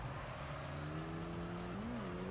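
A racing car in a video game drones steadily through a corner, its engine note wavering and dipping as it understeers, with a faint tyre squeal blended into the continuous quiet sound.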